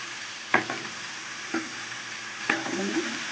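Potatoes and hyacinth bean lentils frying in a pan give a faint, steady sizzle broken by three sharp spoon clinks and scrapes against the pan, with no talking.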